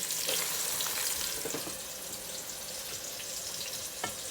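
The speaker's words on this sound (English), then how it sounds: "Just leave that to fry." Onions frying in oil in a home kitchen pot for Nigerian jollof rice and beans, giving a steady, fairly quiet hiss throughout with a few faint clicks and no talking.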